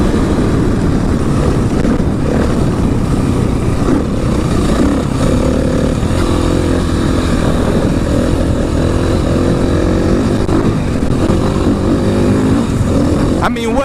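A KTM 500 EXC dirt bike runs continuously on a trail, its engine droning loud and close with a steady rumble throughout, while someone talks over it.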